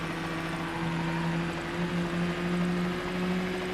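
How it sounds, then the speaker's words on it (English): A police helicopter overhead in the racing video game Need for Speed: Hot Pursuit 2, a steady loud rotor drone with a constant hum, continuous and close, alone without talk. "I dip to the outside, and the chopper is now overhead"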